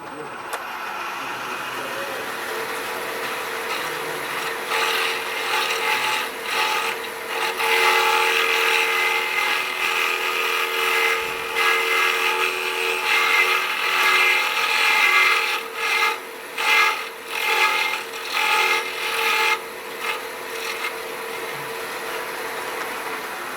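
A threading tool rasps as it cuts threads into scrap wood, a close scratchy grinding that comes in repeated strokes with brief pauses, growing busier toward the middle.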